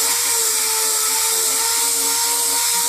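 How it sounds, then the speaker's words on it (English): Continuous high-pitched power sanding on a 1989 BMW E30 M-Tech II body kit panel, a loud steady whine held without a break, close up. "I'll just continue to sand until that's gone"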